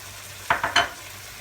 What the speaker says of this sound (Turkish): ve havuçlarımı ekleyerek bunu da güzel bir kavuracağım